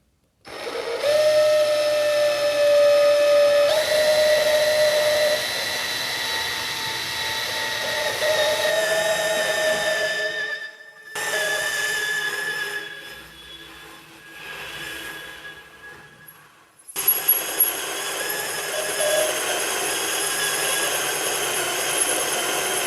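A Chinese 2-in-1 drill, lubricated with a little oil, runs in a test: loud whining motor tones in several bursts with shifting pitch, brief pauses between runs, close and without talk.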